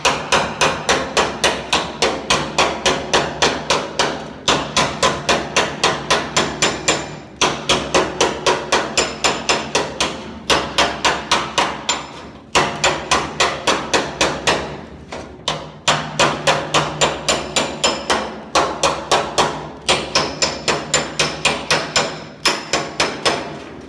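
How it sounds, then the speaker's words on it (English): A slapper hammer strikes sheet metal backed by a dolly while a dent is worked flat, a close, loud, fast run of sharp metallic blows in bursts with brief pauses between. "this is an on dolly with a slapper hammer"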